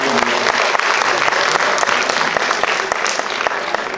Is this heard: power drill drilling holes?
no